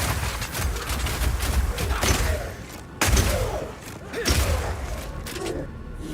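Rapid Shot firing permafrost ammo in Path of Exile 2, a dense stream of quick shots with thumping ice bursts and a couple of sharper booms, continuous and fairly loud with game effects layered throughout.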